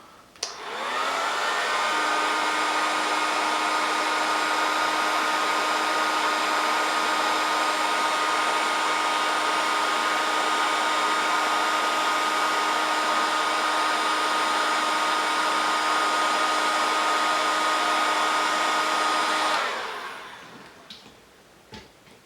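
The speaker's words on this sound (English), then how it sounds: "Then use a heat gun and solder these wires together." A heat gun runs in an MK3 Supra engine bay, heating solder connectors on wires: a loud, steady whooshing roar with a faint tonal whine that holds for nearly twenty seconds before cutting off, leaving quiet handling noises.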